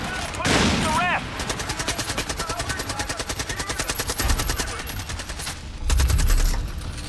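Rapid automatic gunfire in the shooter game Far Cry 5, a sustained burst of evenly spaced shots lasting several seconds, loud and close, with a brief whistling effect near the start.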